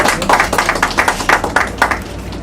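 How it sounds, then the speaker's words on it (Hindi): Scattered clapping from a small audience at a political community event in Delhi's rural outskirts, a handful of hands striking in uneven bursts, fairly close and moderately loud, with no voices over it. "एक बार जोरदार तालियां बजाएंगे,"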